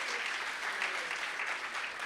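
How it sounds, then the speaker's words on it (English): An audience applauds at a hackathon closing ceremony, producing a steady, even patter of many hands, fairly faint and distant, with no voices over it. "A big round of applause to them"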